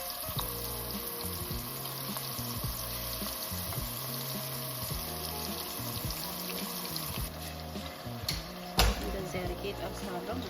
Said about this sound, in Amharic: ዘይቴ ሞቆልኛል። ቋንጣውን እየጨመርኩት ነው።